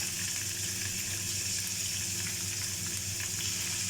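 Boneless chicken pieces for a karahi crackle and hiss in hot oil, a dense steady sizzle heard up close without any voices.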